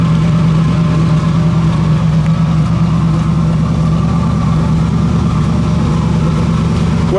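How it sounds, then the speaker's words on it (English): A 1966 Chevrolet Impala idles steadily with a deep, throaty dual exhaust rumble, close and continuous throughout. "Dual exhaust, sounds good."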